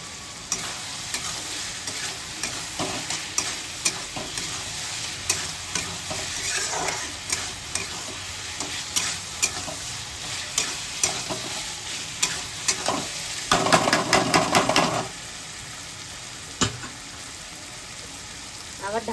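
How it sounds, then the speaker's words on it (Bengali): Paneer fries in oil in a pan while being stirred, producing a continuous sizzle broken by repeated scraping knocks of the spoon, with a louder burst of frying near the end. "এবার আমি পনিরটা ঢেলে দেবো"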